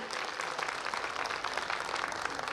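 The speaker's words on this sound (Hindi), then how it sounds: "एक बार जोर से तालियां हो जाए हमारे प्यारे बच्चों के लिए" Audience applause for children at a school annual function, a fairly quiet but continuous patter of many hands clapping together, steady throughout the short stretch.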